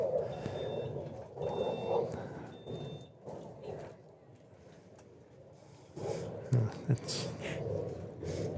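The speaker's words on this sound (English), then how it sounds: "It was the golf cart beeping." A golf cart reverses near a US Open women's singles tennis court, giving a series of three short, regular electronic beeps early on, fairly faint beneath a voice talking, with crowd murmur and movement noise following.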